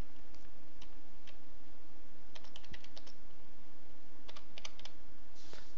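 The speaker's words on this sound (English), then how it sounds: "And then we're going to type in our password." A password being typed on a computer keyboard: sparse, quiet keystroke clicks come in small clusters over a steady low hum, with no one talking.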